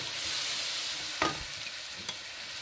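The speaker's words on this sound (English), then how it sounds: "And then we mix it." Spices with salt and chili powder for a fish curry being stirred in a frying pan, a steady soft sizzle with a couple of brief scraping stir strokes, close and alone.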